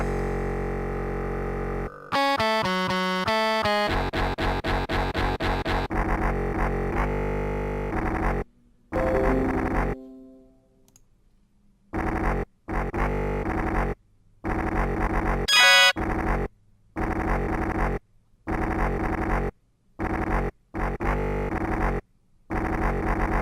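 Synthetic tab-software playback of a breakdown riff on guitar: harsh, buzzy, machine-like chugs with a fast pattern at first, then staccato bursts separated by sharp silences.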